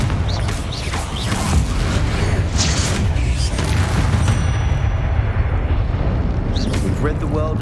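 Fiery Confringo spell explosions from the Hogwarts Legacy video game, a dense continuous rumble of blasts and crackling bursts that stays loud throughout under speech.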